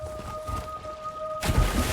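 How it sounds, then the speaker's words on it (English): A hailstorm in Elder Scrolls Online comes as a dull rushing patter with a steady tone over it, then swells suddenly into a louder, denser clatter and rumble partway through. "It looks like there's a massive hailstorm happening right over there in the distance."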